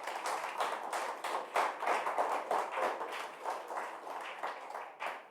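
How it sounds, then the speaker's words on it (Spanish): Church congregation applauding during a sermon, a quiet but steady patter of many hands clapping together in an uneven rhythm, somewhat distant and soft, with no voices over it. "dele un fuerte aplauso si se lo quiere dar"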